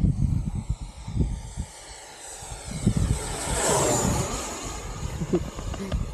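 An XFLY T7A Redhawk RC model jet passes overhead with a rising then falling whine that sweeps close and fades, over outdoor wind noise and handling sounds at the flying field.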